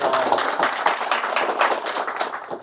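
A class audience applauding, a steady patter of many hands clapping indoors, fairly loud and continuous with no speech over it.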